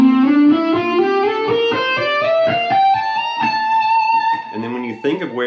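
Distorted electric guitar plays a slow fretted lick, notes sliding upward step by step with a sustained gritty tone, close and fairly loud, ending in a few choppier notes.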